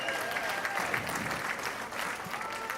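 Married members of a comedy show audience clap together in a steady, moderately loud round of applause with a few faint voices mixed in.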